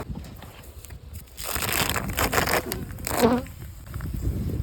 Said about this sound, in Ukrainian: Бджола в наявності, але агресії зайвої вона не проявляє